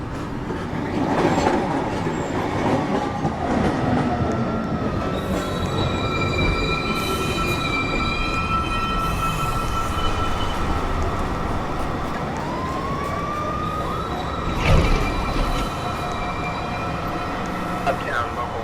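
A New York City subway train, R62A or R142 stock on the uptown local 1 line, pulls into a station with loud, sustained wheel squeal and long rising and falling metallic screeches over steady rumbling rail noise, with no talk.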